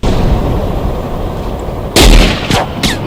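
Several sharp video game gunshot blasts burst out near the end, following a steady rumbling background of distant battle noise.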